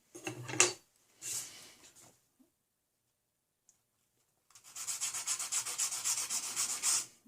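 Fine-tipped tweezers being rubbed on sandpaper to sharpen them, in a few short gritty scraping strokes, then a silent gap, then a longer run of rapid close rasping strokes, with no talking.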